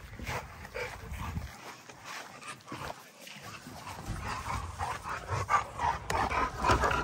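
Several dogs pant close by in a steady, breathy rhythm, with a few small whimpers and rustling mixed in. The panting grows louder toward the end and no one talks.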